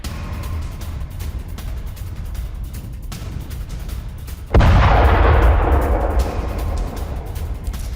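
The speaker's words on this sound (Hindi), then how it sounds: "माउंट डोफ इलाके में इजरायल की बमबारी।" Israeli bombardment strikes the Mount Dov area of southern Lebanon. Steady background noise gives way to a single sudden, loud blast that rolls into a long, rumbling decay.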